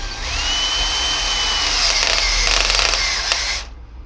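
A power drill spins steadily for about three and a half seconds, a continuous loud whine that rises in pitch at the start, with a faint ticking rattle near the end before it cuts off, used on a Ford Mondeo tensioner release tool.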